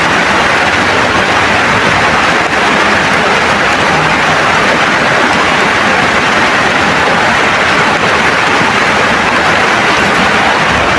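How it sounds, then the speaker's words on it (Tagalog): Heavy rain pours down beside a stream, a loud, unbroken roar of dense drops that holds evenly from start to finish with no voices. "Grabing ulan tol oh."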